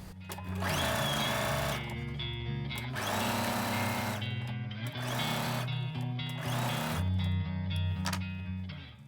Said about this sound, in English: And then we'll sew our other one as well, our traditionally cut piece.